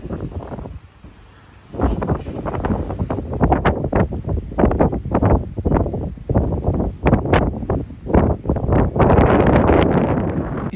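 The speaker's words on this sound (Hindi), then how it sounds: "आप समझ सकते हो कितनी तेज़ हवा चल रही है" Strong gusty wind with light rain whips through plants at a devotional theme park in Shirdi, India, producing loud, buffeting rushes and microphone wind noise in irregular bursts.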